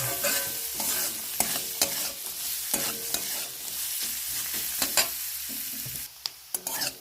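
Steady crackling sizzle of grated coconut frying in a pan, broken by repeated scraping and clinking strokes of a spatula stirring it, close and fairly loud, no talking.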